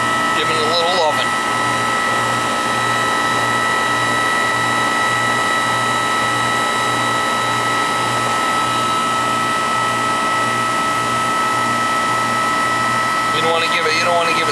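R22 refrigerant being charged into a Goodman AC system that is icing up and not cooling, a steady loud hiss and mechanical hum with a faint rhythmic pulse, brief squeaks at start and end.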